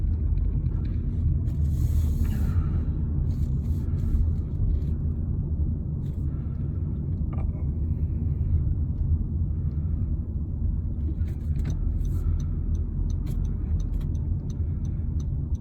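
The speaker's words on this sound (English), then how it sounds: "So that was a successful car test of the Honda Civic 2020." A 2020 Honda Civic in economy fuel mode driving around suburban streets, a steady low engine and road rumble heard from inside the cabin throughout, with a few light ticks and clicks over the top.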